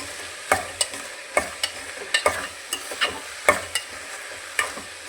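Raw beans fry in hot oil for a sambar, with a soft constant sizzle and sharp intermittent scrapes as a spoon stirs the pan, close and clear with no talking.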